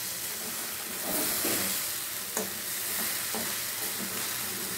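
Moong dal with garam masala is stirred and fried in a pan, giving a steady loud sizzle and hiss broken by a few scraping stirs, with no voices.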